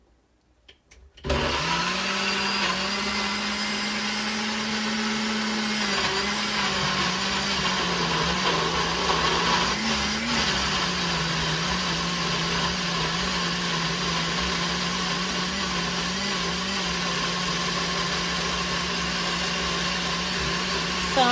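A countertop blender runs steadily for about twenty seconds after a brief quiet start, whirring loudly as it purees carrot, orange, sweet potato, grape and pineapple into juice, its motor pitch dipping slightly as the load shifts.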